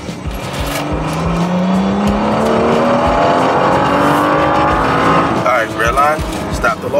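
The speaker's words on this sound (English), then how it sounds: "Put it in third gear, 2 grand, and go, floor it." A BMW with tuned engine software pulls hard at full throttle in third gear, its rising engine note climbing steadily toward redline for several seconds, loud from inside the car, before easing off as a person speaks.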